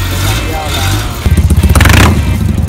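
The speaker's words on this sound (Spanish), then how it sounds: "Los motores rugieron" Classic vehicle engines at a Madrid vintage car show rumble loudly, one giving rapid pulsing revs near the end, with a narrator speaking over the noise.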